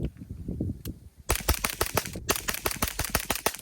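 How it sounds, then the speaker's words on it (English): Griffin Armament Mark II AR9 fitted with a HuxWrx Flow 9K TI suppressor dumps a magazine, a rapid string of about a dozen sharp suppressed shots with one short pause, close and loud after a quieter start. "Griffin Armament Mark II AR9. And a mag dump."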